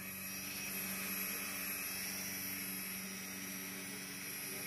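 A Sharper Image Mach X toy drone flies outdoors with a steady, high-pitched whine and even buzzing hum, constant and fairly faint throughout with no voices.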